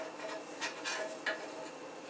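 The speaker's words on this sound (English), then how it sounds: "And now it's just about stirring it in." Flour gravy with hot water, hot sauce and Tabasco being stirred in a skillet, faint soft scraping strokes with a few light knocks of the utensil against the pan.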